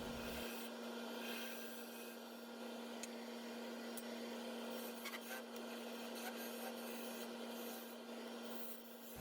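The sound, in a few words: parting tool cutting spalted maple on a wood lathe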